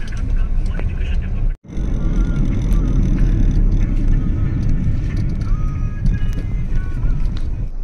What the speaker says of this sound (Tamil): இப்போ டிராஃபிக்னா அவ்வளோ கார் போகுது